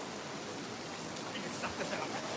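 Heavy summer rain falling steadily outdoors, a dense, even hiss close by with no break across the short stretch.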